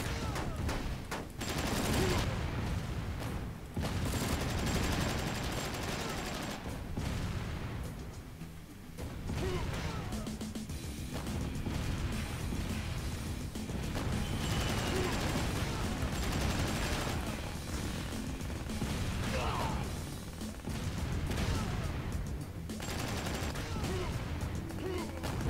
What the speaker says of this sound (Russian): пока наша артиллерия бьет